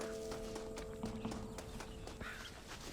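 Hooves of a Kentucky Saddler horse in Red Dead Redemption, a faint steady clip-clop of hoofbeats set low in the mix under constant game ambience and background music.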